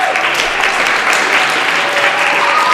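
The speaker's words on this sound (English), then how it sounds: "Give yourself a round of applause." A crowd at a district-wide public school art show in New Bedford breaks into sustained, loud applause, even and continuous throughout without voices on top.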